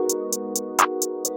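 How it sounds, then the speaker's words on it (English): Crisp hi-hat ticks at a steady, even pace over a warm sustained pad in a pluggnb beat, with one fuller clap landing in the middle. "So like a normal hi-hat pattern would sound like this."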